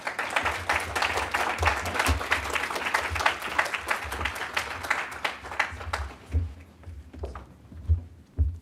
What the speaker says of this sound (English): A round of applause, please, for Jane.